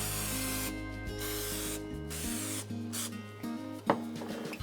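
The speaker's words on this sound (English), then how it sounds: "we'll want to spray this just with some cooking spray" Bursts of aerosol spray hiss in short repeated blasts with pauses, over steady background music, close and fairly loud.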